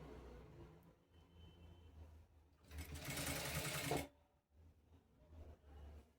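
Sewing machine stitching a bias-turned neckline on a straight-cut kameez, a steady whirring run of about a second and a half swelling over a quieter room hum, with short motor bursts before and after.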